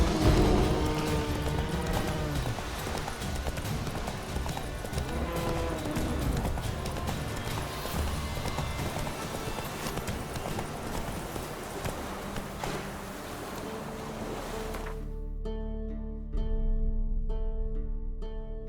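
Hoofbeats of Geralt's horse Roach galloping in The Witcher game, a rapid steady clatter running under dense background sound for most of the stretch before cutting to sparse, quieter hits near the end.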